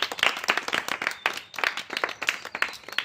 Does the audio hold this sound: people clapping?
yes